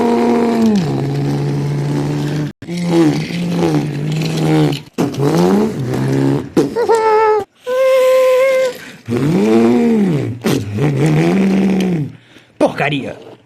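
Race cars head back onto the track, their engines whining and revving in several loud bursts that rise and fall in pitch, separated by brief gaps.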